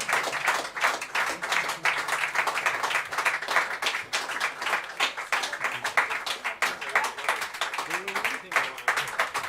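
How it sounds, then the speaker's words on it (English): An audience at a live concert at Blue Note Dresden claps steadily and densely for several seconds, the applause swelling and easing slightly, with voices mixed underneath. "the clapping was strong, and then it faded, then it came back, then it faded again"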